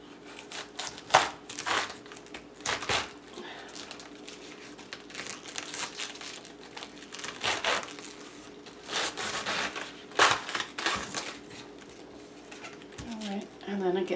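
A knife cuts through a head of cabbage for kielbasa and cabbage, with crisp crunching and crinkling strokes in irregular bursts, close by, while someone speaks at intervals.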